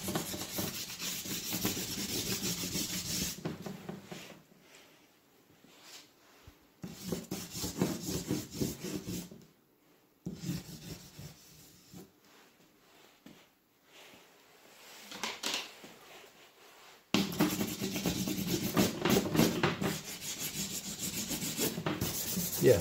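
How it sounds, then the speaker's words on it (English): Charcoal or pastel drags across paper in a drawing session, making dry, scratchy rubbing strokes in bursts separated by near-silent pauses, loudest at the start and toward the end. "going back with the tip of the charcoal, or the tip of the pastel"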